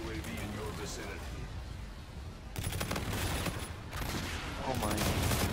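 Rapid gunfire in a Call of Duty match, dense bursts of shots that grow louder and more intense partway through, with people talking over the action.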